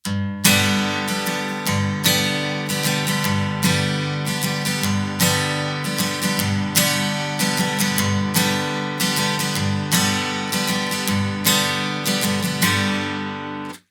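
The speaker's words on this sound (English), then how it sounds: "Now here's how that same strum pattern sounds if I swing the rhythm" Acoustic guitar strummed in a swung, lilting rhythm, uneven eighth-note strokes repeating steadily, close and bright, played alone.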